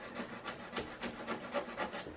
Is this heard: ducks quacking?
no